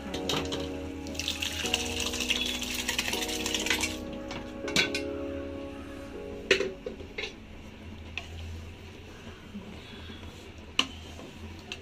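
Water poured into pav bhaji masala and boiled vegetables in a kitchen pan, a steady splashing rush for several seconds that fades into faint stirring and a few light clinks.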